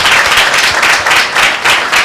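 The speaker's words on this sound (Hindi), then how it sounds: "ताली हो जाए।" A church congregation at a Sunday service breaks into steady, rhythmic group clapping, loud and close, with pulses coming in a regular beat for a couple of seconds.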